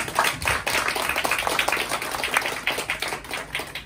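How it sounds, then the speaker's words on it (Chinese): An audience at a business seminar in a Taipei hotel applauds steadily and loudly, a dense, continuous wash of clapping that carries through the whole stretch. "然后我们有请掌声热烈一点，"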